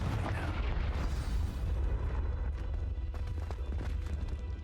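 Spell explosion from Hogwarts Legacy on PC, a sustained rumbling boom with low-end roar and crackling debris that stays loud throughout, with no voice over it.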